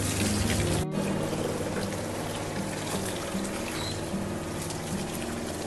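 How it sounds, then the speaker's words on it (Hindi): Water runs steadily from a tap as eggplant (brinjal) is washed in a home kitchen, a continuous close pouring and splashing with one brief sharp knock near the start. "तो बैगन धो लूँ मैं।"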